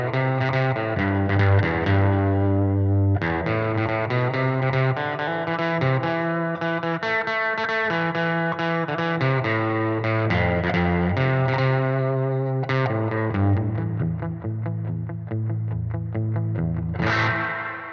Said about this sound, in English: that's hall reverb